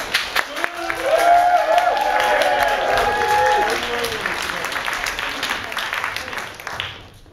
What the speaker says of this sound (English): Let's get another round of applause for the red team.